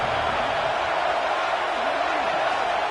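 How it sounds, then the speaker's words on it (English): A large stadium crowd at a Bruins football game gives off a dense, steady wash of roar and cheering. The noise stays continuous and distant-sounding throughout, with no single voice standing out. "Listen to the crowd energy here in the early going."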